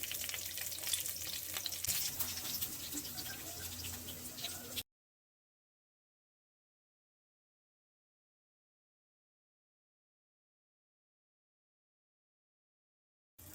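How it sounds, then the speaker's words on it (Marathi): Bombay duck (bombil) fries in wood-pressed coconut oil with curry leaves and garlic, a dense, steady sizzle for about five seconds before it cuts to silence. "आता हे बोंबील आपण फ्राय करून घेऊया."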